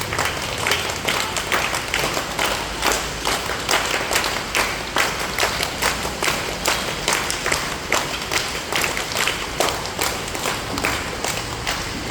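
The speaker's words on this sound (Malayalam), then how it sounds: "കൈയടിക്ക്." An audience at a World Environment Day event honouring the Haritha Karma Sena waste-collection workers claps in dense, continuous applause, steady and close throughout.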